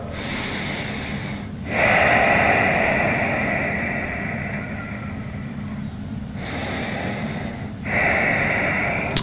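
Slow, deep breaths during a yoga session: two long, loud breathy inhales or exhales separated by quieter stretches, close and intimate with no talking.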